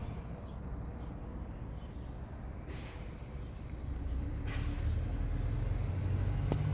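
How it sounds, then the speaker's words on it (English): Crickets chirp steadily in short, evenly spaced pulses over a constant outdoor hiss, fairly faint and distant, with no talking. "sorry about the crickets"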